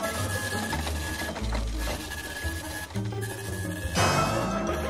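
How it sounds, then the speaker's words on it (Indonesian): A machine keeps running in a steady, close mechanical whir with a faint constant tone. The drone shifts slightly partway through and swells near the end. "Aduh, mesinnya masih jalan."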